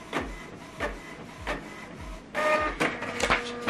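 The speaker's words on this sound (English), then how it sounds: "this is how to print document from your laptop to Canon printer" A Canon Pixma inkjet printer prints a document from a laptop, giving rhythmic mechanical clacks about every two-thirds of a second over a steady whir. It grows busier and louder with rattling feed noise near the end, with no talking.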